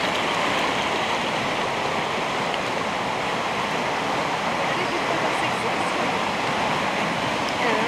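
Nelson Falls waterfall roars as a steady, broadband rush of falling water, loud and unbroken throughout.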